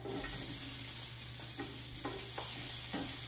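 Leftover zucchini rounds fry in a pan, giving a steady, quiet sizzle with a few soft stirring scrapes, close up and without voices.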